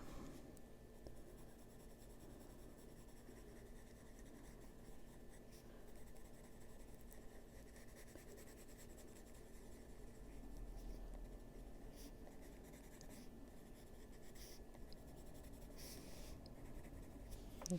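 Colored pencils scratch and glide steadily across paper in continuous soft strokes, quiet and close, with no talking.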